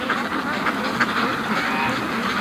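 A flock of free-range ducks quacks steadily close by while walking on a frozen lake with thick ice, a dense busy chatter with a few louder calls standing out.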